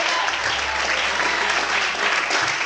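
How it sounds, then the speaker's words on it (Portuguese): A church congregation claps and applauds to praise God, a dense, steady roar of many hands filling the room at moderate loudness, with a low sustained tone underneath and no clear talking. "Será que você pode aplaudir ao Senhor e glorificar a Deus no Senhor?"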